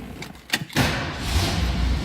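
A car door thuds shut, then the engine of a 1967 Ford Mustang Convertible with stock cam and exhaust catches and settles into a steady, loud idle close by.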